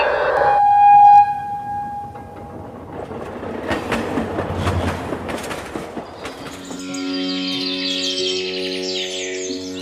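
A train horn blares briefly, then a train rumbles and clatters past before a steady melodic tone takes over.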